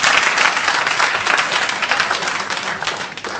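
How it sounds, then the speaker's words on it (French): Audience applause at a televised quiz game show, a dense burst of clapping from a crowd throughout, loud and close. "On l'applaudit."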